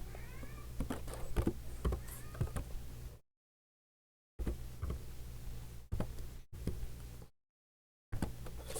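A house cat meows several times, short close yowls and mews scattered over the first few seconds, then more brief cries between sudden silent gaps, over a low room hum.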